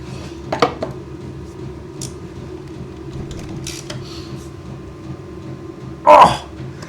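A metal pan is grabbed and handled during work on a soap box car, giving a couple of faint clanks early on and one louder metallic clatter near the end over a quiet background hum.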